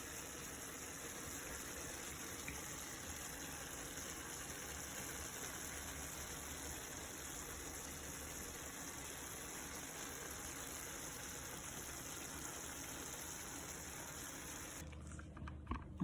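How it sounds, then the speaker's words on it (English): Saltfish being washed under a running kitchen tap, a steady, continuous splash of flowing water into a sink that holds evenly for about fifteen seconds before a brief clatter at the end. "I'm going to wash this saltfish and let it boil"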